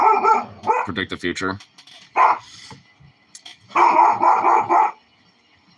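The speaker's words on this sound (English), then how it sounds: "I can predict my dog is going the fuck off right about now." A pet dog barks indoors in loud, excited bursts with some yips mixed in, while someone speaks briefly between the outbursts.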